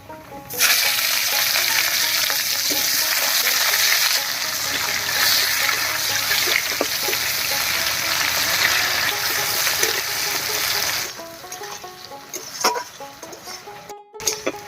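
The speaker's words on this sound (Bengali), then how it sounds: "এবার দেব পেঁয়াজ কুচি," Chopped onion fries in hot oil with chopped garlic for a river small fish curry, giving a loud, steady broadband sizzle close to the pan that holds for about ten seconds, then settles into quieter crackles and a few spatters and clicks.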